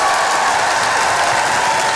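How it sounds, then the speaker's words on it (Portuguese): Congregation claps together at a children's church service, a dense, loud wash of applause filling the whole moment without any talking over it. "Cadê as palmas para Jesus aí?"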